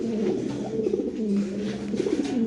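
Fancy Lahori pigeons at a breeding farm coo in low, rolling, continuous calls close by, with no talk over them.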